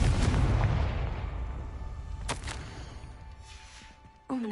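The Confringo fire spell in Hogwarts Legacy, a booming blast at the start that decays into a rumbling tail, followed by a sharp crack midway and another abrupt burst at the end.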